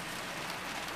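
Rain falling steadily in a flooded park, a dense, even patter of raindrops lasting about a second, close and fairly loud, with no voices.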